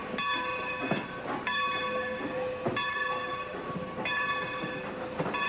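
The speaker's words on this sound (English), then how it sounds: "And the whistle, I'd never heard a whistle like this before as a kid." An old train's whistle sounds in repeated steady blasts, each lasting about a second with short gaps between them, over a constant rumble and clatter of the rolling train.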